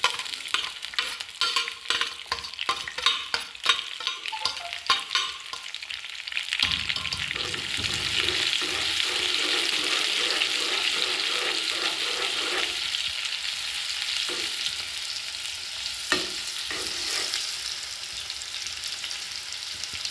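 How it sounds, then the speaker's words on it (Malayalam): Sliced onions frying in hot coconut oil, a loud continuous sizzle with scraping stir strokes at the start, close and without any talk. "നമുക്ക് ഉള്ളിയിട്ട് കൊടുക്കാം."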